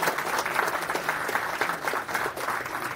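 A conference audience applauds a speaker, a dense, steady patter of many hands clapping at moderate distance for a few seconds.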